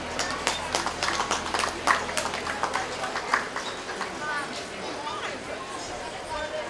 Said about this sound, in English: let's give all those Berkshire exhibitors a nice round of applause.